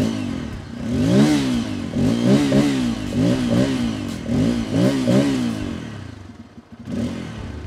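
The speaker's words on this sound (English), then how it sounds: "let's listen to the exhaust note of this bike" Bajaj Pulsar N250 single-cylinder motorcycle, 2021 model, revved repeatedly through its exhaust, a throaty note rising and falling in about six quick blips, close and clear, then settling back to idle.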